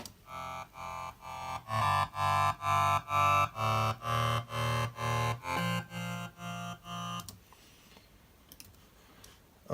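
Two layered studio synths a perfect fifth apart play a run of punchy, evenly spaced chord stabs, loud and bright, then drop away into a quiet, hissy tail.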